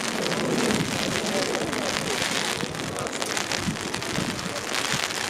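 Steady rain pours down outdoors at a college softball game, a dense, even hiss of drops on surfaces with some wind buffeting the microphone, continuous throughout without speech.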